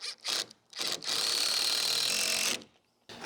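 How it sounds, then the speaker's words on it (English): Screws driven at an angle into a wooden block for a gable shed roof, a power drill whirring in short bursts, then one long steady run of a couple of seconds, close and fairly loud. "Then we're just going to toenail a couple of screws into the block."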